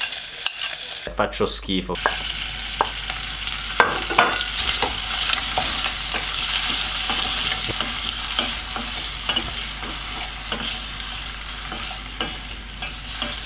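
Pancetta frying in a pan, a dense, steady crackling sizzle close up, with a brief scrape and rustle at the start and a short spoken remark early on.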